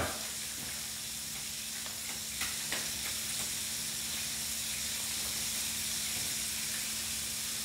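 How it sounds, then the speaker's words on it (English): Pork chop nuggets frying in a pot of oil at a rolling boil, a steady close sizzle and hiss with a few faint pops, alone without talk. "That's the nice rolling boil that you're looking for, that fry right there."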